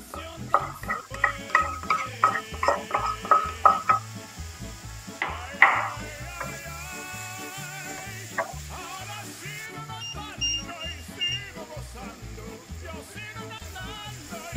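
Meat added to a pan of chili con carne being stirred and scraped, with clattering utensil strokes and a steady low sizzle continuing underneath, close and moderately loud.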